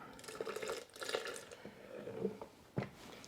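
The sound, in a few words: soaking water poured into salsa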